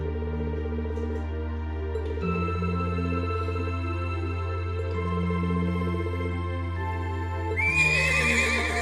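Horses neigh in the video game Trails of Cold Steel II, with drawn-out whinnies rising over steady game music, the loudest burst arriving near the end.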